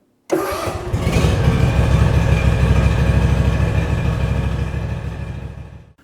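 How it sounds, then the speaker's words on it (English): Kawasaki FS541V engine of an Etesia AK95 Attila ride-on brushcutter starting up and settling into a steady, loud, close idle with a low rhythmic chug, running alone for several seconds before fading slightly at the end. "That's if you can't hear the beautiful purr from the fantastic Kawasaki engine behind me."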